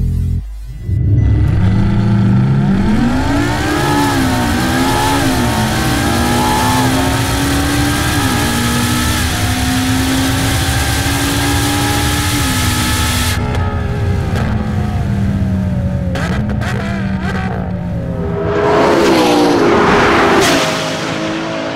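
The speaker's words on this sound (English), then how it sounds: "here's what a three-way drag race would look like between the LaFerrari P1 and 918" A LaFerrari, a McLaren P1 and a Porsche 918 run a three-way drag race, loud close engines rising in pitch through repeated gear-change steps, wailing steadily before tailing off and then surging again at the end.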